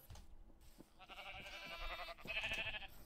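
Sheep bleating on a sheep farm in Minecraft, a few moderately loud, tonal bleats with game ambience in the background.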